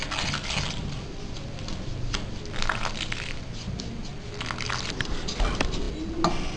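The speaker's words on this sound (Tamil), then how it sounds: "போட்டுட்டு சுடு தண்ணி ஊற்றி கொஞ்சம் கெட்டியாக பிசைஞ்சுக்கலாம்." Rice flour dough with a little salt is kneaded by hand with hot water, giving soft, irregular squishing and slapping sounds, close and moderately quiet, with no talk.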